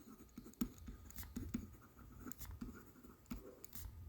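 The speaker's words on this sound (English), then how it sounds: "Let's write it down." A pen scratches across paper up close and quietly while an answer to an accounting exam question is written out by hand, in irregular strokes and short taps with small gaps between them.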